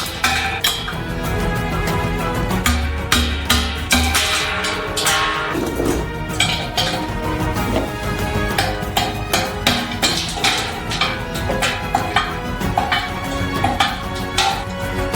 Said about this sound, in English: What doesn't get through, we finish with a hammer